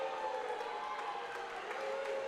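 A rowdy home crowd at a girls' high school basketball game roars in a continuous, dense wash of cheering and booing after a foul call, loud and without pause.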